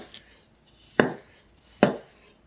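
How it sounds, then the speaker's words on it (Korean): Washed, unpeeled potatoes being cut into quarters with a knife on a cutting board: two sharp, close chops about a second apart, with quiet pauses between. "씻은 감자는 껍질째 4등분으로 썰어줄게요."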